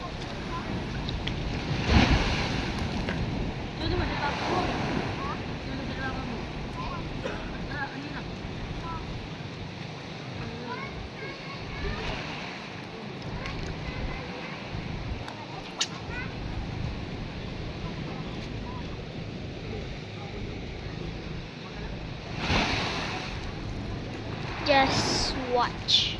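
Ocean waves slapping and splashing against a small fishing boat at sea, with gusting wind buffeting the microphone and intermittent talk over the surging water.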